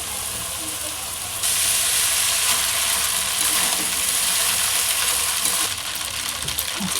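Chow mein noodles with tomato ketchup stir-fry in a pan, giving a steady broadband sizzle and hiss with scraping stirs that runs throughout the clip and grows louder after the first second.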